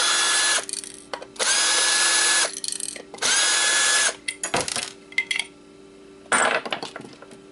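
Power screwdriver whirring in several sustained bursts while unscrewing parts from an Xbox hard drive, with clinks of small metal parts and screws between runs, close and loud.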